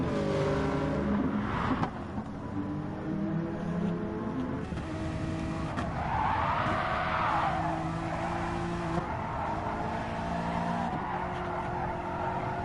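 Race cars in a racing video game at Tsukuba circuit brake hard into the hairpin, with tires squealing and skidding over continuous engine drone and downshifts, no talk.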